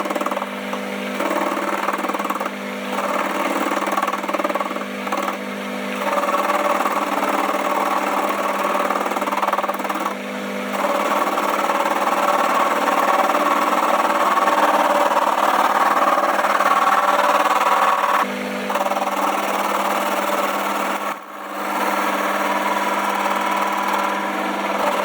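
A metal lathe facing and turning a tool height setting gauge gives a steady, continuous machining drone with brief dips where the cut pauses, fairly loud and close, with no talk over it.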